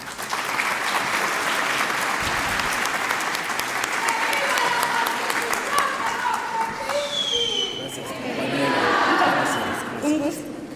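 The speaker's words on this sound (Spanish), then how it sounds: "al doctor Alberto Acosta Espinosa, a quien pido un gran aplauso." Audience at a public dialogue event applauds a speaker's introduction, sustained loud clapping with chatter and light laughter, easing off midway and then swelling again before fading.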